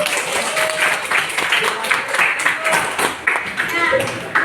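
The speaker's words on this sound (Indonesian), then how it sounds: "Kasih aplaus dulu untuk kelas 10." A high-school class of tenth graders claps together in a classroom, a dense burst of scattered hand claps that runs the whole time and is mixed with voices and some chatter.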